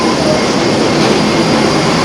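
A loud, constant roar of jet engines fills the cabin of a large airliner on a long-haul flight from Delhi to Vienna, a steady rumbling drone with no pauses.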